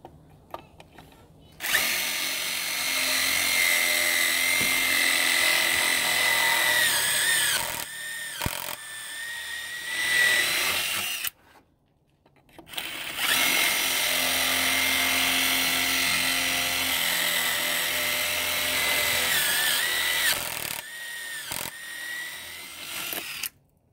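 A power drill bores pocket holes through deck railing wood held in a Kreg jig, two long loud whining runs with a brief pause between them and short stops near the end, no talking.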